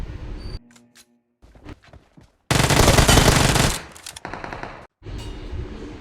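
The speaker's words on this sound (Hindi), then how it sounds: "मुझे सामने की तरफ से फायर की आवाज़ आती है तो मैं सीधा रश कर देता हूँ।" Gunfire in a mobile battle royale shooter game, a loud sustained burst of rapid shots among shorter bursts and pauses, close and dominant with no talk.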